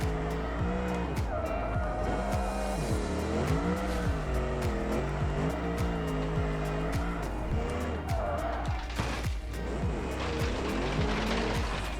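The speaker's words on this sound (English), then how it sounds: "Okay, we spun out trying to be funny, trying to be cool, and we lost a spot" A race car in BeamNG spins out with tires squealing and skidding, its engine revving and wailing in rising and falling sweeps through a loud stretch of racing.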